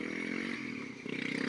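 A BMW G650X Country's single-cylinder motorcycle engine running, a steady close thumping drone that rises slightly in pitch toward the end.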